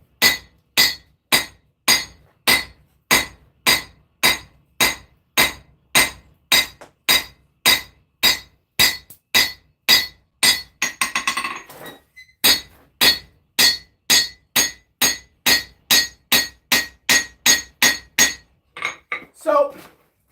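A hammer strikes a knife blank on an anvil as the bevels are forged. Some thirty ringing metallic blows land close and in a steady rhythm, with a short pause midway.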